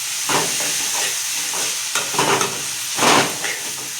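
Finely chopped tomato sautéing in oil in a pan, a close, steady hiss of frying broken by a few louder scraping stirs, with no voices.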